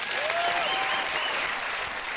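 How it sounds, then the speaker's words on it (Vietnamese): Studio audience applause on a Vietnamese television comedy show, a steady wash of clapping from the crowd lasting a couple of seconds with no talk over it. "bây giờ em chỉ cần một tràng vỗ tay để bắt đầu cái phần thi của mình thôi"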